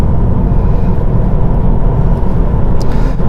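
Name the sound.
car accelerating away out of a corner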